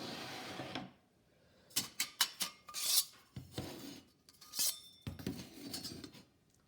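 Metal pieces of a TOAKS titanium 750 mL cook kit and its three-piece wood stove clink and scrape as they are handled, with a string of sharp close clatters and rattles followed by softer rubbing.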